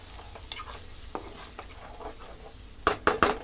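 Pre-fried small prawn pieces sizzling in a curry pan, a low steady sizzle with soft scattered stirring scrapes, then three sharp loud clanks of the spoon against the pan near the end, no voices.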